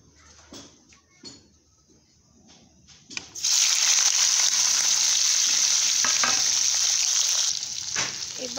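Boiled pork goes into a hot wok with panch phoron and sets off a loud, steady sizzle that lasts several seconds, after some quieter clatter and handling sounds.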